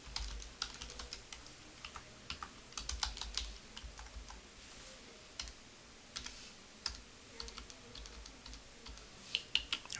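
Steady keystrokes tapping on a computer keyboard as a client's name is typed into tax filing software, quick irregular bursts of clicks with brief pauses, close and fairly quiet.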